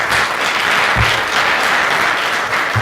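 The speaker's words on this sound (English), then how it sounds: "So please, a round of applause for the Eagle Rock." Sustained applause from an audience at a community forum on homelessness in Eagle Rock, Los Angeles, steady and dense clapping filling the whole stretch with a few low thumps.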